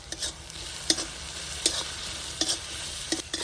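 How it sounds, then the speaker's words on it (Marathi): Vegetable masala for Maggi sautés in a pan over a traditional chulha stove, with a constant hiss of frying and sharp ladle scrapes at irregular intervals. The sound is close and fairly quiet, with no voices. "हे पण पाच मिनटं परतून घेऊ"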